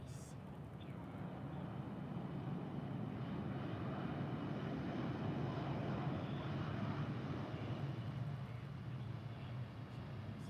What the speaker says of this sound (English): The China Eastern A350 butter landing